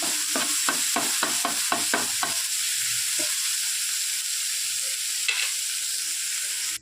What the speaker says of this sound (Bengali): এখন দেখো তার মধ্যে অল্প তেল দিয়ে দিয়েছি। এবার মাছটাকে ভাজবো।